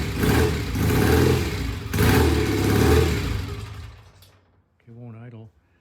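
A vintage British motorcycle engine fires up after a kick start and revs roughly, close and loud, before dying away into near silence. A voice speaks briefly at the end.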